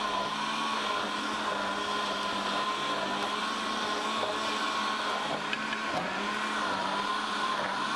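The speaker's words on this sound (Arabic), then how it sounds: "همسك السلق ده كله واحطه في الخلاط، واحط عليه طبعا شويه ميه هو والكزبره." A kitchen blender runs steadily, whirring and grinding as it purees boiled chard and coriander with water for a taro and meat dish, a continuous loud motor drone with no pauses throughout.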